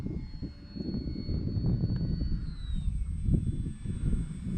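A light airplane's engine drones steadily and close throughout a landing into a northwest wind, with a faint high tone gliding downward partway through.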